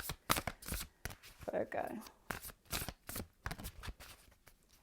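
Tarot cards are shuffled in quick repeated riffles and flicks, close up, while a person speaks a word softly between the bursts.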